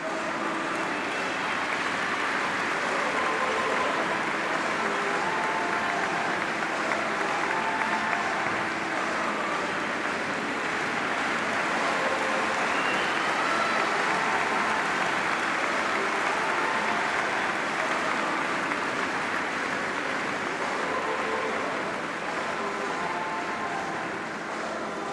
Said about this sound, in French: Merci d'applaudir chaleureusement Iñaki Goicoechea et Eki Martinez.